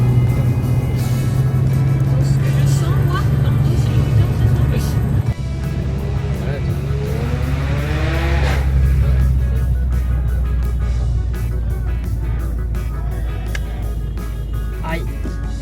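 A rally car in a charity rally accelerates hard, its engine rising through the revs with a loud, close drone heard from inside. There is a shift near the middle, and people talk over it.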